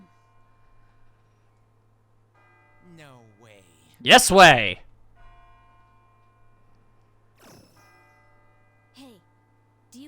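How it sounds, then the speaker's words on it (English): A bell rings in the Persona 3 FES video game: one loud, resonant strike that briefly dominates an otherwise quiet scene, with short spoken lines before and after. "It sounds like a bell, but where's it coming from?"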